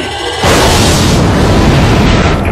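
A sudden deep explosion in a Star Trek space battle bursts in after a brief quiet moment, then rumbles on as a loud, sustained roar.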